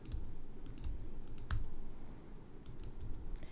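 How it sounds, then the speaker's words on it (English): Computer mouse clicking while a shirt design is edited on screen, a few soft, sparse clicks spread over a few seconds against steady room noise, with no talking. "And it's just clicking and deleting."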